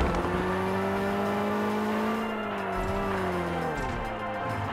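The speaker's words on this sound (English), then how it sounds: "Oh, we got ourselves a sports car here, ladies and gentlemen." The Tuatara supercar in PUBG Mobile drives at a sustained high engine pitch, a steady loud whine that dips slightly and shifts as it goes over a bridge, with no talking over it.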